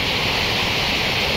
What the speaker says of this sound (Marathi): किती प्रेशरनं पाणी पडतंय बघा ते